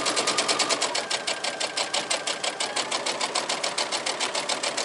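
Steady, rapid stitching of a sewing machine running a seam through quilting fabric, a continuous close mechanical chatter with an even rhythm throughout.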